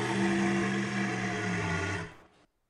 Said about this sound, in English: The large roar sounds like this.